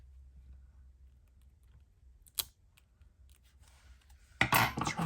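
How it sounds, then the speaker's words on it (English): Scissors trimming the stem of a paper watercolor flower: one sharp snip in the middle, then a louder burst of crisp cutting and rustling at the end, close and clear, with a faint hum underneath and no talk. "Trim off the stem here."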